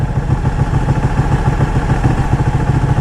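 A 200 hp superbike engine running close by, a loud, steady, throbbing idle with a rapid low pulse and mechanical clatter throughout.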